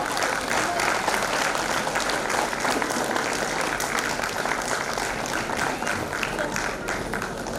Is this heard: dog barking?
no